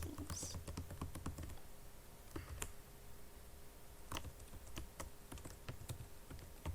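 Typing on a computer keyboard while writing Python code, a faint run of quick, irregular key clicks with a few sharper taps, no talking.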